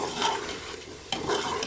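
Mutton frying in ghee in a pot, stirred with a spoon: a continuous close sizzle with soft scraping and one sharp clink partway through, no talking.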